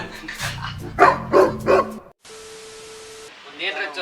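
A dog barks several times in quick succession, close and loud, followed by a brief steady tone and some background noise.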